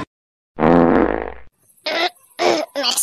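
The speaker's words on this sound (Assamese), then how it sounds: "কালিৰ পৰা খালি পাদিয়ে আছো" A long, buzzy cartoon fart blares loudly for about a second, followed by short bursts of animated character voices.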